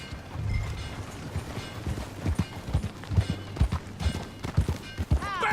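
Horse hooves clip-clop steadily while riding in the video game Red Dead Redemption 2, a brisk, close rhythm of beats over low ambient game sound, with a brief high squeal near the end.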